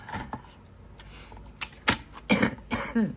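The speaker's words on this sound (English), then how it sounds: "Don't start coughing." A few sharp, close coughs in quick succession, rough and throaty, following some faint tapping and rustling.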